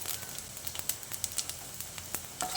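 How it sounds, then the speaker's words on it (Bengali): Whole cumin seeds and two dried red chillies fry in oil left over from frying potatoes for Bengali aloo dum, a steady hiss punctuated by scattered sharp pops and crackles. "ওই তেলের মধ্যে দিয়ে দিচ্ছি 1 চামচ গোটা জিরে, দিয়ে দিচ্ছি দুটো শুকনো লঙ্কা"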